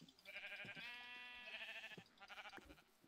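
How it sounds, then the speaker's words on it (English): A Minecraft sheep gives a single quavering bleat, clear and close, with short clicky game sounds around it and no talking. "Come here, sheep."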